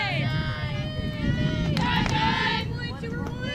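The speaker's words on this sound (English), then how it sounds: "you can hear the wind blowing in our crowd mic here behind home plate" Gusty wind rumbles steadily into a crowd microphone behind home plate at a sunny college softball game, a low constant roar under crowd noise and a commentator talking throughout.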